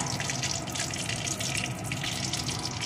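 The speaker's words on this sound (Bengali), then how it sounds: "এখন ওই তেলের ভিতরে ফোড়নে দিয়ে দেব একটা তেজপাতা, একটা শুকনো লঙ্কা" A bay leaf and a dried red chilli crackle in hot oil as whole spices are tempered for a jackfruit dalna. The hiss is steady and loud, with no one speaking.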